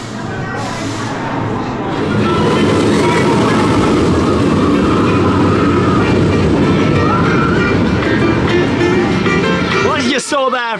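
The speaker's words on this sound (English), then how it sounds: "The train shakes like mad, it really does." A roller coaster train at PortAventura rattles and rumbles loudly along its track, a rough, jolting clatter heard up close from on board that runs continuously before cutting to a brief burst of other noise at the end.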